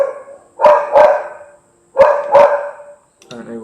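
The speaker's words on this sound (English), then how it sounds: "I don't know why she barks so much." A pet dog barks in two close pairs of sharp, loud barks with a pause between them, indoors and nearby, followed by a brief softer vocal sound at the end.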